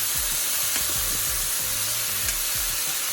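Sweet pepper and seasoning vegetables being mixed around in a pot for Jamaican steamed fish, a steady sizzling hiss with soft, irregular stirring scrapes underneath.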